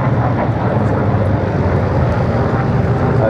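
A propeller-driven aircraft flies past at the Duxford Flying Legends airshow, its engine drone loud, broad and continuous throughout.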